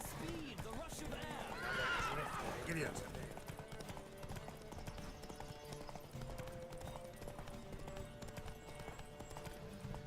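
A horse whinnies and hooves clip-clop at a gallop during a horse race in The Witcher 3: Wild Hunt, with a loud neigh early on and then steady rhythmic hoofbeats under a game soundtrack.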